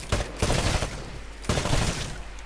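Rifle fire in Titanfall as targets on a shooting range are shot, coming in two loud, dense bursts of rapid shots with a brief lull between them.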